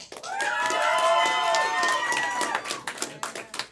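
An improv comedy audience cheers and claps for the performer Punch, with loud sustained whoops and shouts over scattered clapping that thins out toward the end.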